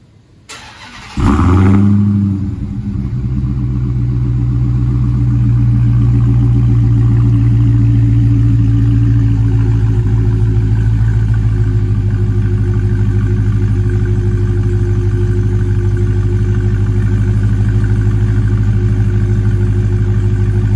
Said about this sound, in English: So start up with the factory stuff on it, without the cornerstone catless mid pipes.